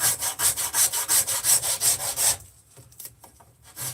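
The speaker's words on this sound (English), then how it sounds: "So for now, I'm going to switch up and just start rasping the top of this." A Shinto rasp scrapes the top of a carved wooden spoon bowl in a steady run of about a dozen rhythmic strokes, close and loud, then breaks off into quieter scattered scraping and handling.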